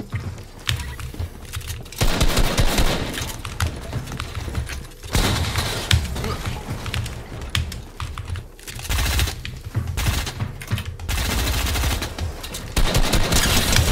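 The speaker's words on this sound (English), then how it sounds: "I'm gonna shoot my guy" Rapid bursts of gunfire from a Fortnite token wager match crackle loudly in clustered volleys, with dense sustained stretches and brief pauses between exchanges, and no talk over it.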